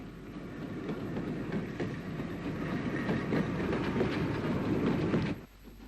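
UG Class 0-6-0 steam locomotive No. 47 speeds through Lisburn on a March morning in 1964, a loud, close, rushing train with rhythmic clickety-clack of wheels that cuts off abruptly near the end.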